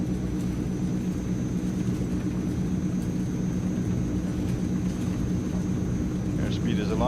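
The twin turboprop engines of a Transall C160 in a flight simulator drone steadily and loudly at full power during the takeoff roll, with a faint voice partly under the engine noise.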